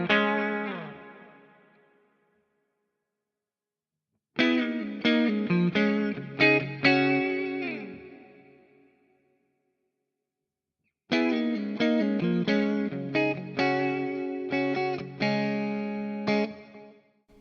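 A K-Line Truxton electric guitar on its bridge pickup alone, played through effects, a ringing chord left to fade, then two bursts of strummed chords and picked notes with silence between.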